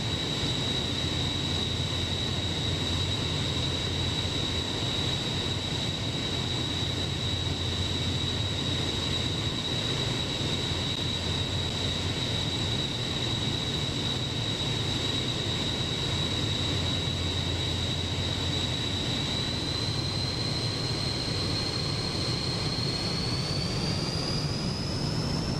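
Aircraft engines at takeoff power in Microsoft Flight Simulator 2024, a steady loud roar with a sustained high whine that rises in pitch toward the end, continuous and without talk.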